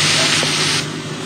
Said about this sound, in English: We've been frying off the leeks, onions, garlic, celery, mushrooms, and onions.